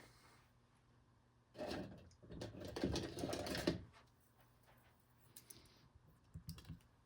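Close scissors snip and rustle through stiff card stock, trimming its ends in a few bursts, with quiet pauses between cuts.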